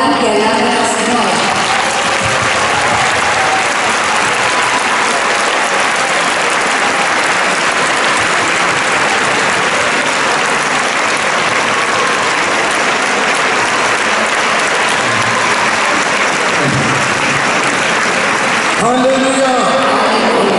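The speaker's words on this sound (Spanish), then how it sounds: "Clap the hands and praise the Lord." A church congregation claps hands steadily and loudly for a long stretch, a dense continuous wash of applause with a few voices showing at the start and end.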